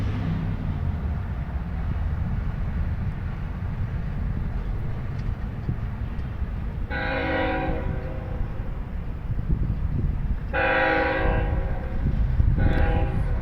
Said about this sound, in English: There's a train. Where's this train coming from?